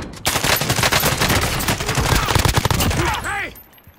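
Rapid automatic gunfire from Call of Duty: Modern Warfare multiplayer rattles in dense, close bursts for about three seconds, then trails off with a couple of whooshing effects into quiet.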